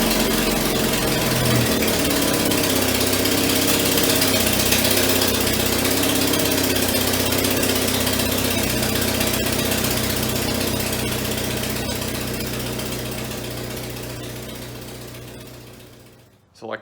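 An engine starts and runs rough, shaking with heavy vibration. It gives a loud, steady, rattling mechanical drone that fades out as it shuts down at the end.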